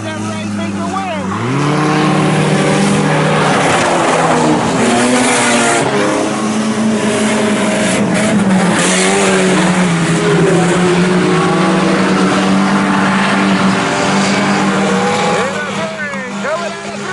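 IMCA Sport Compact race cars roar around the oval at Salina Speedway, a loud continuous engine drone with rising and falling revs as the pack runs through the turns, with a commentator talking over it throughout.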